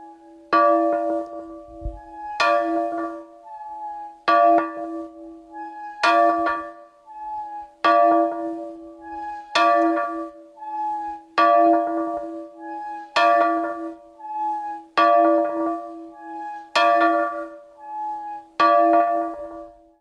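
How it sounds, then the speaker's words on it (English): An old disused bell, hand-rung at an outdoor commemoration of the 1921 Vaughan shootings from the Irish War of Independence, tolls eleven times in a slow, steady rhythm, each loud clear strike ringing out over the next. "And Sean, I'm just going to ask you now to give the bell a little ring there."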